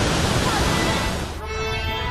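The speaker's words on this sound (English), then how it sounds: "you can also admire this waterfall who is descending from the forest" A waterfall pours down from a forest in Guizhou, China, a loud, continuous broadband rush of falling water that thins slightly toward the end, close and steady.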